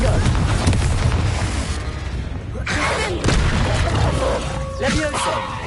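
A Confringo fire-blast spell explodes in the Hogwarts Legacy video game amid dense, continuous combat noise, with a booming impact and crackling bursts layered under a voice.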